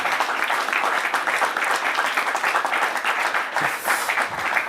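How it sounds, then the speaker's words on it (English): Sustained applause from an audience at a live panel event celebrating its panelists and organizers, dense steady clapping filling the whole stretch without letup. "let me just ask you for a big round of applause for our panelists and for the organization."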